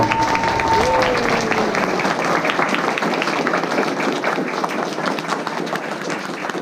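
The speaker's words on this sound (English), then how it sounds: "Let's give them a big round of applause." Applause at an elementary school award assembly, a full crowd of students clapping continuously and loudly close by, with a few voices and cheers under it at the start.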